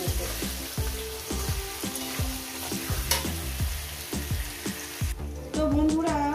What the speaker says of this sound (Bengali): আর এটাকে আমি ভালো সুন্দর করে 5 থেকে 6 মিনিট এটাকে ভেজে নেব